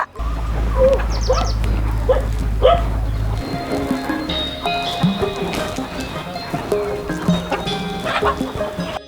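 Native country hens cluck and chatter in a busy mixed-farm yard, with a steady low hum in the first few seconds and other animal noises scattered throughout.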